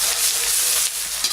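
Ginger and garlic hitting hot oil in a pan for a fish curry, giving a loud, steady broadband sizzle that holds evenly for a second or so with no talk.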